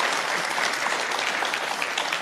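Audience applause at a debate, a brief burst of moderate clapping from a room of people that holds steady for about two seconds.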